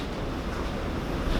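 Strong wind gusting outside during a storm, a steady loud broadband roar buffeting the microphone without a break, swelling slightly toward the end; no one speaks.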